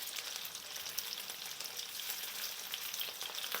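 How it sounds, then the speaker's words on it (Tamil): Chicken pieces for butter garlic chicken fry until crisp in a pan, giving a quiet but steady, crackling sizzle throughout with no voices. "கிறிஸ்பியாக பொரித்து எடுத்துட்டோம்னா நல்லாயிருக்கும்"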